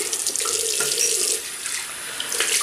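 Tap water runs steadily into a sink while a razor is rinsed during a shave, a close, continuous splashing hiss with small shifts in flow.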